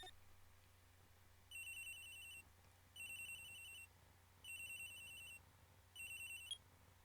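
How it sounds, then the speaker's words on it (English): A cell phone rings in the Phoenix Wright: Ace Attorney game, four bursts of a bright electronic ringtone repeating at a steady rhythm over a quiet hum. "I hope I didn't have to make the cell phone sound. You guys probably got that."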